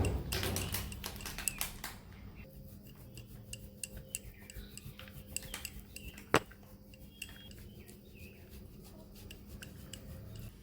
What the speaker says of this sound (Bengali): এবার নিয়ে নিয়েছি একটা পনির, আমি গ্রেটারের সাহায্যে একটু গ্রেট করে নেব।